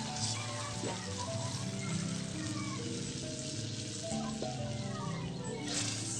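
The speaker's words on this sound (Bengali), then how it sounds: "ব্লেন্ডার ধুয়ে যে পানিটা সেটা এখন দিয়ে দিচ্ছি।" Water used to rinse a blender of onion and garlic paste goes into a hot pan of koi fish and jute leaf curry, bringing a steady, fairly loud sizzle and bubbling hiss that continues throughout.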